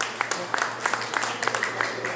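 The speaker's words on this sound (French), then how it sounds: "On l'applaudit très fort." Audience clapping for the champions of a school spelling contest, a brief round of scattered, moderately loud hand claps in a hall, with talk mixed in underneath.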